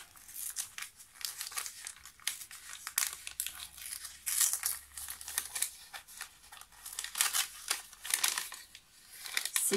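Paper envelope from an Advent calendar being opened and handled, with continuous close crinkling and rustling of paper, bursts of tearing and crumpling throughout, no voices.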